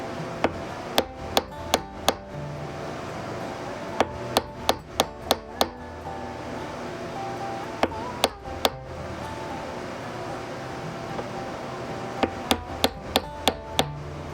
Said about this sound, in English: I use a wooden chisel to hammer the frets in.